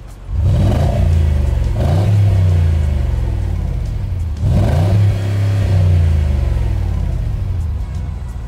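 A Porsche engine revs hard in two separate bursts, each rising and falling away to a low rumbling idle, loud and close.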